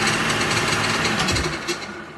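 A FIMEI multifunction food processor runs at speed 1, a loud close motor drone with rough grinding texture, fading slightly toward the end with no talking.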